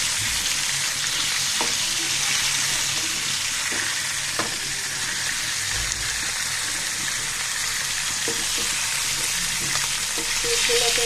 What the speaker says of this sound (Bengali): একদম ভালো করে ভেজে নিচ্ছি